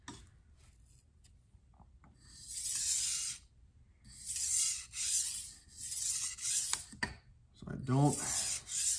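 A Wusthof Classic santoku knife is drawn across an 800 grit sharpening stone in long rasping strokes that swell and fade in repeated passes, close and loud, while a voice speaks briefly.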